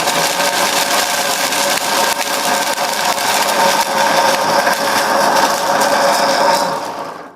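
A kitchen mixer grinder dry-grinds roasted black pepper, cumin and coriander seeds with a loud, steady whirring rattle that runs without a break, then winds down at the very end.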